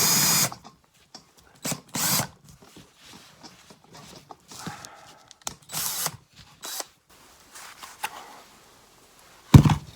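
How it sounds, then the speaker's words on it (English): A power drill whirs in several short bursts into scrap wood, starting and stopping repeatedly with quiet gaps between, close and fairly loud. "I'm on a garbage scrap piece of wood, I suppose, to drill into"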